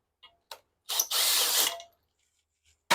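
Cylinder head studs on a Ford 302 V8 being loosened, giving short ratcheting bursts and one sustained mechanical whirr near the middle, close and fairly loud with quiet gaps between.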